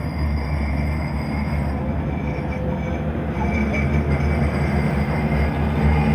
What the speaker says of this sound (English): Now I'm going to show you one of Manchester's trams